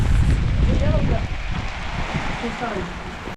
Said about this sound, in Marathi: जबरदस्त पाऊस